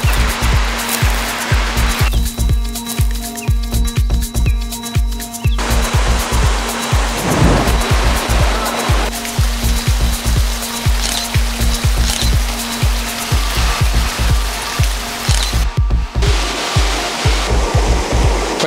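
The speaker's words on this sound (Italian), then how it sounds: "Questa è la bellissima cascata che si chiama O la Vida." Ojo de la Vida waterfall near Baños de Agua Santa, a loud, close, continuous roar of falling water with heavy broadband rushing, sometimes overlaid by wind buffeting or handling bumps.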